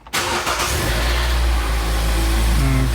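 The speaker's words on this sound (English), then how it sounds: "Let's go ahead and start her up." A Kia engine cranks briefly, then catches and settles into a steady, loud idle. It runs on alone and close by, with no voices.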